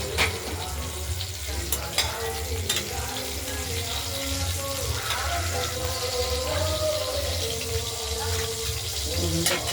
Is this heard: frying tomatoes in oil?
yes